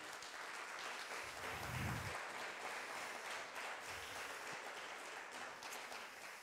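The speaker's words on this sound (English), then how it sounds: "Could we have a round of applause for those people?" A round of applause from an audience at a community gathering, a continuous soft wash of many hands clapping, heard faint and distant, with a couple of low bumps underneath.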